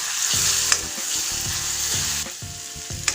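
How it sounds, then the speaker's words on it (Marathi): Ginger and green chili paste sizzling in hot oil in a pan, a bright continuous frying hiss broken by repeated scraping strokes of a spoon as it is stirred, close and steady. "आलं आणि हिरवी मिरचीची पेस्ट टाकून परतून घ्या"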